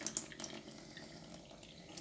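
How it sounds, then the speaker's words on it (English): Water drains out of a cooking pot for meatballs into a sink, a faint steady trickle and splash with scattered drips, quiet and continuous with no voices. "you drain out the water"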